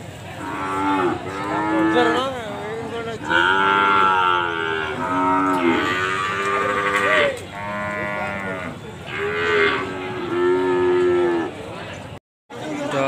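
Ongole crossbred (PO) cattle, a cow and calf, moo repeatedly at close range at a cattle market, long drawn-out lowing calls overlapping one another, with a brief silence near the end.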